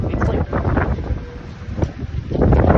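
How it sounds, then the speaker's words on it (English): Strong wind buffets the microphone in loud, continuous gusts, roaring and rumbling throughout with no pause. "It's freaking windy. Like, I've never seen it this windy."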